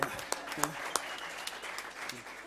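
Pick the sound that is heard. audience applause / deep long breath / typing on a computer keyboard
audience applause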